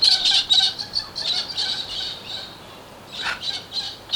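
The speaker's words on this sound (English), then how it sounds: "Enjoy the birds." Birds squawk and chirp repeatedly in bursts, fairly close and clear, with a short pause before a final cluster of calls.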